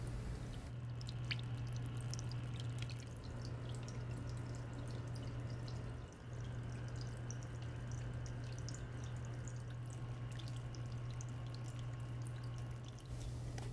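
Gentle, continuous trickle of a small waterfall in a moss paludarium with scattered drips over a low steady hum.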